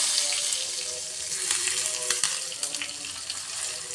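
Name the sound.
cumin and curry leaves sizzling in hot oil for dahi tadka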